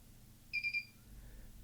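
A safe's security system beeps as it is armed through its app, three quick faint electronic chirps in a row over a quiet room, followed by a softer fading tone.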